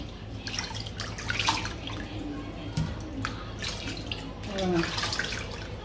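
Peeled potatoes washed in a bowl of water in a home kitchen, soft splashing, dripping and squishing close by at low volume, with a louder swell of water near the end.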